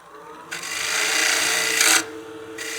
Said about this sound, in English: So I will be using the spindle gouge for basically the first third of this pot.